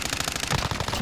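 Fast rattling automatic gunshots in Call of Duty Warzone, a tight rapid string of close shots lasting about a second, with no speech.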